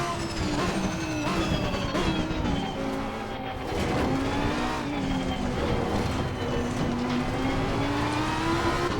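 A 2021 Lamborghini Huracan EVO GT3 races at Zandvoort in Assetto Corsa Competizione, its engine roaring loudly with rising and falling revs through gear shifts, mixed with tire squeal and other cars nearby.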